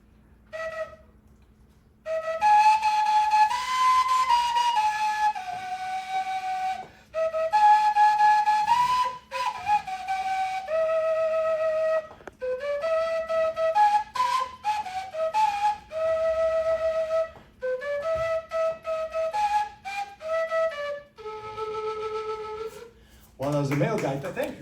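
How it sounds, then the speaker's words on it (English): A female gaita, a Colombian flute, carries a flowing melody of sustained, slightly wavering notes in phrases broken by short pauses, played alone and close. "I'm gonna play you a little bit of what the gaita sounds like."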